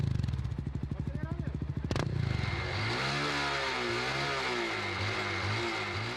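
Motorcycles rev loudly in city traffic in Guaratinguetá, a rapid pulsing engine putter that gives way to a rising and falling rev. A news narrator talks over the engine noise.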